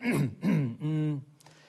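A voice clears its throat in two short rasping bursts followed by a drawn-out hum, close and fairly quiet, apparently imitating the sound.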